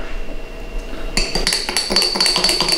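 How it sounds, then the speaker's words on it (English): A spoon stirs hot buttered brandy made with cognac and warm milk in a glass, with a quick run of close, bright metallic clinks after a brief quiet start. "We might have to stir it up a little bit."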